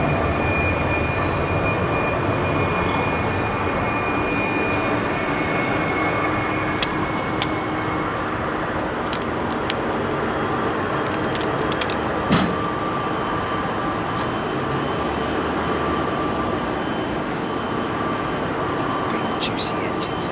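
Jet engines roar in a broad, continuous rumble as an airliner prepares to depart runway 27R at London Heathrow, steady and loud throughout, with faint clicks and knocks scattered over it.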